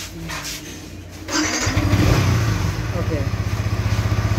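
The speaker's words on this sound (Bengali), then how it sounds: "এখন এই বাইকটা স্টার্ট দাও তো" A Yamaha R15 V4 motorcycle fitted with an Indo quick shifter starts up close by after a brief word, its engine catching and settling into a steady, rhythmic idle throb.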